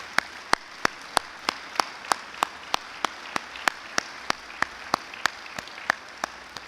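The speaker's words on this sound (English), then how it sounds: "let's have a round of applause to express our appreciation" A small audience claps at a Raleigh Hall of Fame event, sparse and steady with evenly spaced single claps over a faint room hum, fairly close.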